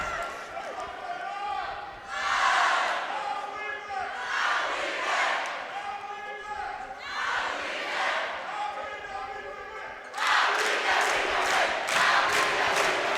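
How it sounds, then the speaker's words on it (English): Basketball crowd in a college arena chanting "I believe that we will win" in repeated rhythmic call-and-response waves, growing louder and fuller near the end, with a commentator talking over it. "This has been a crowd favorite here in the Arlen R. Horton Sports Center Arena this season."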